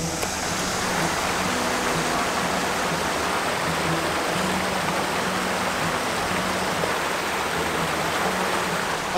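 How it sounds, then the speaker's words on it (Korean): Water flowing along Cheonggyecheon stream in central Seoul, a steady close rushing babble that holds evenly throughout with no voices over it. "여러분 물소리 들리나요?"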